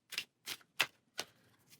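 Cardboard location tiles from a board game being shuffled by hand: four or five short, dry riffling bursts spaced about every third of a second, close and fairly quiet with no talking.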